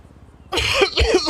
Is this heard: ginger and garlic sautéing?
no